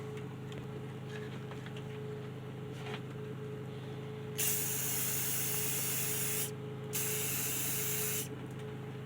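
Rust-Oleum metallic gold spray paint can spraying, with two steady loud hissing bursts of about two and one and a half seconds over a low background hum.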